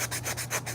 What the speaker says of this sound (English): Then you just take this piece, hold it, and start sanding.